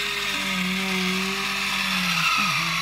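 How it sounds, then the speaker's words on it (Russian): A battery-powered mechanical can opener works its way around a can of corn, giving a steady motor whine with a wavering pitch that dips near the end, close and alone. "Открывать кукурузу я хочу вот такой открывашечкой механической."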